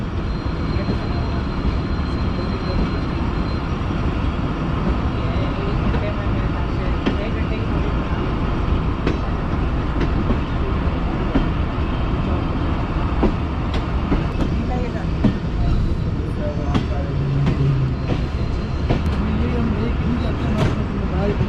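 Fareed Express train rolling slowly through a station on a technical halt, a steady low rumble of wheels and carriages with faint clicks, under ongoing chatter of passengers nearby.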